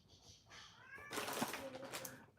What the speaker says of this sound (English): I have whining cats.